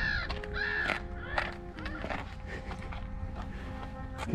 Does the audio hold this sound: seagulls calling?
yes